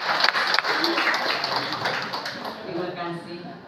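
Audience clapping hands at a university anniversary ceremony, Universitas Mega Buana Palopo, steady crowd applause filling the room with a voice speaking over it.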